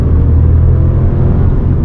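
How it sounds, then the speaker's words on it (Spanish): A Volkswagen T-Cross 1.0 TSI engine at full throttle in second gear on a national road, a loud, steady, droning rumble that holds strong throughout with no voices. "ahora mismo vamos en tercera, bajamos a segunda, pisamos a fondo"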